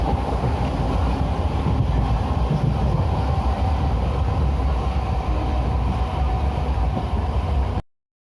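A train rumbles along steadily, a loud continuous roar of wheels and carriage noise heard from close by, unbroken until it cuts off abruptly at the end.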